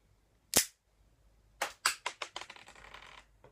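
A compact LEGO Technic survival pistol fires a round: one sharp, close plastic snap, then after a pause a quick series of rattling clicks that decay one after another, with no voices.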